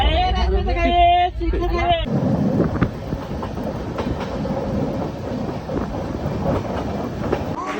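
A Sitamarhi Kamakhya Express passenger train rolls along with a steady, continuous rumble and rattle of carriages that fills the whole stretch, preceded by a brief moment of voices and a child's chatter inside the coach.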